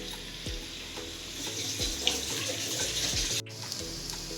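Urad dal vada batter frying in hot oil, a steady close sizzle and hiss with occasional soft splashes and clinks as pieces are dropped in, without speech.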